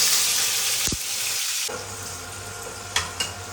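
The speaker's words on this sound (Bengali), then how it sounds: "হালকা করে পেঁয়াজটাকে ভেজে দিলাম।" Chopped onions frying in a pan for Bengali-style jackfruit kofta give a strong, close sizzle that softens partway through, broken by a couple of sharp stirring knocks near the end, with no talking.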